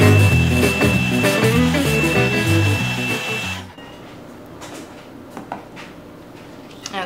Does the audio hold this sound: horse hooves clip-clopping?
no